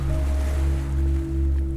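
Ocean waves and surf roll in a steady, continuous wash with a low rumbling undertone, holding even loudness throughout with no voices.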